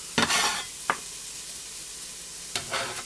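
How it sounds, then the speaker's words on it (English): Chopped onions sweating in a sauté pan, with short scraping stirs and soft sizzling bursts separated by quiet gaps, close and clear with no talking. "I'm going to go right into the saute pan."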